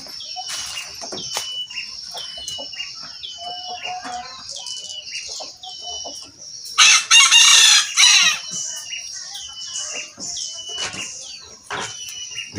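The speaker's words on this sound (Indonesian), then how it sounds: "Biasanya ayam pelung suka berkokok di waktu" Birdsong and chirps fill the background while a loud burst of clucking, crowing calls from a black and red Pelung rooster rises briefly in the middle, near and strong.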